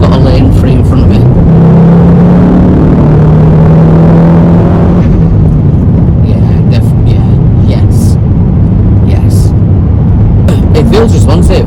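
A Mk4 Ford Focus ST with Revo Stage 2 software cruises on the motorway, a loud steady engine drone and road roar heard from inside the cabin, with someone talking over it.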